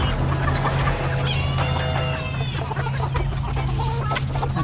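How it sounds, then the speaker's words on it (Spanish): Several chickens and hens clucking and squawking close by in a workshop, with a steady low hum underneath throughout. "en el taller de al lado está lleno de pollos, gallinas"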